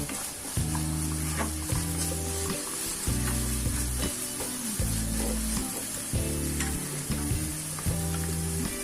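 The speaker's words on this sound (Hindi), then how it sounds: "इसे भी हम अनियंस गार्लिक के साथ अच्छी तरह से सॉटे करेंगे। गैस की फ्लेम को हाई रखेंगे।" Onions and garlic sautéing over a high gas flame for restaurant-style chicken fried rice, a steady loud sizzle under rhythmic scraping and stirring strokes that repeat in regular bursts, with no talking.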